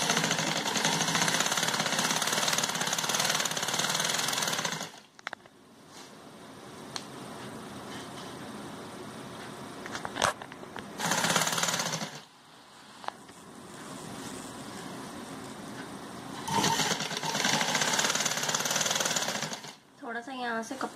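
A sewing machine stitches thin, slippery fabric for a kite-style kurti in loud, continuous whirring runs. The runs stop briefly around five seconds, again around ten seconds and again near twenty seconds, and softer spoken instruction can be heard in the gaps.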